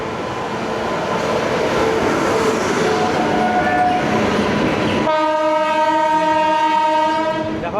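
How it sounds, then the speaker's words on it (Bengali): The Black Diamond Express pulls into platform 4 at Bandel Junction, first as a loud, steady rumble of rolling wagons. Partway through, a long, loud horn blast sounds and holds to the end. "ব্ল্যাক ডায়মন্ড এক্সপ্রেস আমাদের 4 নম্বর প্ল্যাটফর্মে ঢুকছে"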